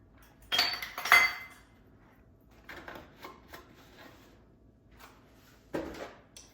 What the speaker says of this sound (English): I have all my measuring cups just hooked together, so I'm just gonna leave them that way.